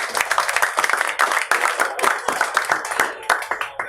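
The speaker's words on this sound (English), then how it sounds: "I think first we should get a big up round of applause for coming up." An audience at a casual science talk night in State College claps in a warm round of applause, a dense patter of hand claps with a voice talking over it.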